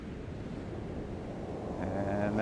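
Waves surge and recede on an Icelandic shore as a broad, soft wash of surf mixed with wind rumble, swelling slightly toward the end with a faint tonal hum.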